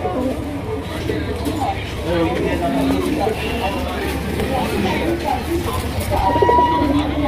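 Pigeons coo repeatedly in a pigeon market stall, including sky-coloured Rajgolla pigeons, with soft throaty calls scattered under someone talking and background crowd babble.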